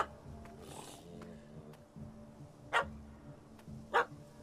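A puppy barking at a cat up a tree in the Witcher 3 video game, two short sharp barks spaced apart over a low ambient hum, with faint background sounds.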